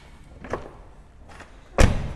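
Two soft, muffled thuds of Tesla Model 3 doors shutting, followed by a third, heavier and louder slam of a Model Y door.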